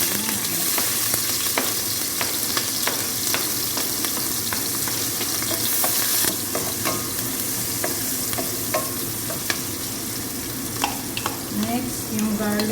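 Onions sautéing in a pan for Maqlooba rice, a steady close sizzle broken by frequent scraping stirs, with faint water sounds and brief background voices.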